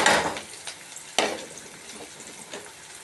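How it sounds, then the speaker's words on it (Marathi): Chopped onion and curry leaves sautéing in a pan, a steady close frying hiss with scraping stir strokes, one sharp spike of sizzle partway through, then quieter crackling. "कांदा थोडासा परतून घेऊया"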